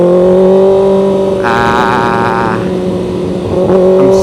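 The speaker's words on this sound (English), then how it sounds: "I can hear it's not climbing the revs." Car engine held at steady revs while a driver learns clutch control, a loud continuous drone with a brief rising, wavering rev in the middle before settling back to a constant hum.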